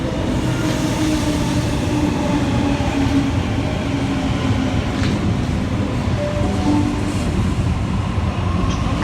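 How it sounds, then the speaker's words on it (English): A Sydney A set train pulls into platform 3 at Parramatta station with a steady, loud rumble of wheels and motors. Faint squeals and clanks ride over the continuous low roar. "We have an A set arriving on platform 3."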